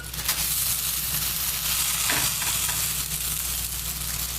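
Jowar thalipeeth flatbread sizzles loudly and steadily on an oiled pan, a constant close frying hiss with brief crackles and no talking.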